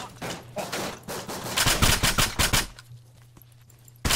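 Bursts of rapid automatic gunfire in Arma 3, loud and close, with several short volleys in a row before a pause and one final sharp shot.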